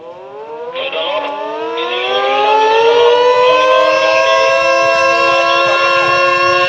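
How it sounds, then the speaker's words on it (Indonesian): A loud civil defense early warning siren for a disaster preparedness drill in Kebumen, Indonesia, wails continuously, its pitch climbing and then holding at a steady sustained tone, with no voices. "aktivasi sirene peringatan dini"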